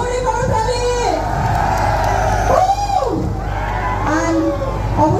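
A large crowd at a live event with a DJ roars with loud whoops, yells and cheers, sustained and close, with voices rising and falling throughout.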